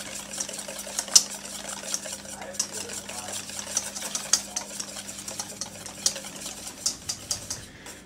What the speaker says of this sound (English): Just keep whisking and add the oil slowly.